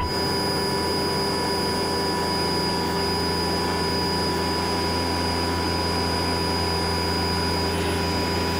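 Cabin noise aboard an SH-60K helicopter flying the downwind leg of a pattern near a base: a constant, loud engine and rotor drone with steady tonal whine and no breaks.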